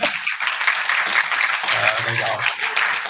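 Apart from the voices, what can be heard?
applause sound effect in an online call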